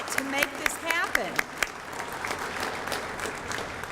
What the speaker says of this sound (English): If you're either an employee or a teacher, give them a round of applause.